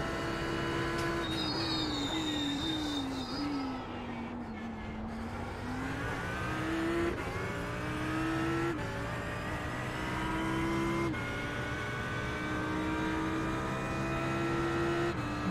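An Audi R8 LMS GT3 race car engine at Sebring in the iRacing video game, loud and continuous, rising and falling through gear changes with downshifts, braking and repeated accelerations.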